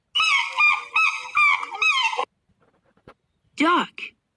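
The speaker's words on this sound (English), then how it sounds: "Swan." Swan from a cartoon wild-animal sound collection honking, a long run of loud, nasal, rhythmic honks followed by a pause and then a shorter pair of honks.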